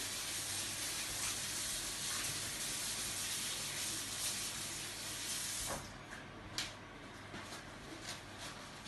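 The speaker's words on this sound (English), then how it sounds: "Just wash my hands for 2 seconds." Tap water runs in a steady hiss while hands are washed in a home kitchen during scone baking, then cuts off partway, leaving light clicks and faint drips.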